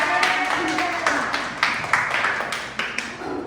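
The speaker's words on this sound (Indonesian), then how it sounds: "Ya, tepuk tangan semuanya." A classroom of students claps briefly together, a burst of close, uneven hand claps with scattered individual slaps that trail off after a few seconds.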